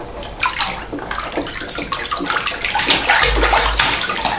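Water splashing and sloshing in a filling bathtub during a child's bath, with irregular close splashes and a steady running-water wash throughout.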